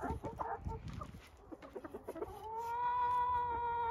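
Chickens cluck and squawk close by in a village in short irregular bursts, followed by a sustained nasal call that holds steady for a second or two.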